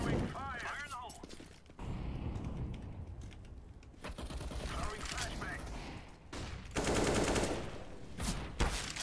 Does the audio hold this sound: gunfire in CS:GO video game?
yes